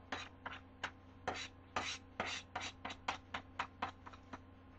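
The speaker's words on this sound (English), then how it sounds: "we'll take the tomatoes and the eggs and the juice from the tomato that's on the cutting board," Chopped tomatoes and eggs are scraped off a cutting board in a quick series of short, soft raking strokes, irregular in rhythm and close by.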